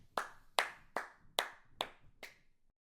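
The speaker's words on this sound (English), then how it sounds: "clapping." Six slow, evenly spaced hand claps from a single person, close and crisp, each with a short decay, in an otherwise quiet room with no talking.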